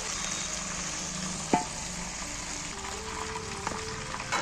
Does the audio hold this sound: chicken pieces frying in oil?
yes